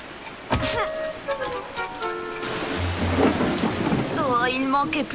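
Heavy rain falls steadily outside during a thunderstorm, with rolling thunder rumbling low, while voices speak over the storm.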